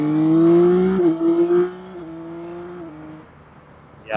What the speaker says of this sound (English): I love the quick shifter, and it has a really nice sound as you're going along.